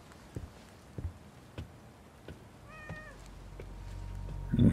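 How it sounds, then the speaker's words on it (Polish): A cat in the video game The Medium gives a single clear meow midway, set among soft, scattered taps and a low background rumble that swells toward the end. "Kot się najadł."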